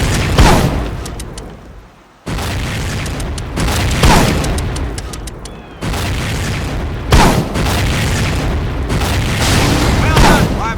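Mortar fire and explosions in the video game Medal of Honor Pacific Assault: loud, heavy booms in several separate bursts with sharp onsets and rumbling decays, one brief near-silent gap, and a voice heard faintly alongside.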